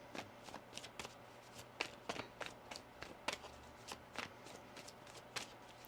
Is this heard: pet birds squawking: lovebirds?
no